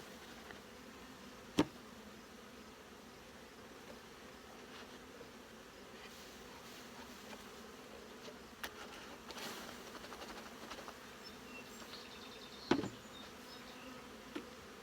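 Honeybees swarm around hive frames during a colony split, a steady close buzz with a few sharp knocks and clicks of frame handling.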